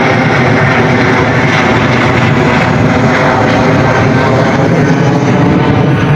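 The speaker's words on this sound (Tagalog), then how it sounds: "tuwing may dadaan na aeroplano, dinig na dinig at kitang-kita ng ating dalawang mata" An airplane passing overhead close to an airport, a loud, steady broadband engine roar that fills the whole stretch without pause.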